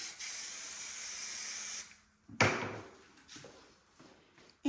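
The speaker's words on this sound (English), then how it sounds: "Okay, then we're going to spray." Hairspray is sprayed onto a freshly styled pixie cut in one steady, close hiss lasting nearly two seconds, followed by a quick clatter as something is set down and a few soft handling noises.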